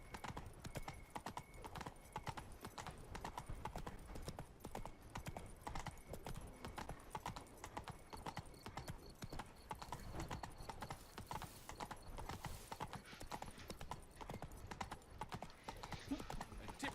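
Steady clip-clop of the horse Roach's hooves trotting in The Witcher III: Blood and Wine, continuous and moderately close, with a faint voice murmuring briefly over it.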